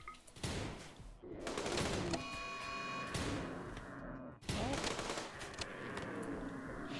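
Dense rapid gunfire in the video game RimWorld, bursts of automatic shots with brief pauses, loud and sustained with some electronic tones underneath.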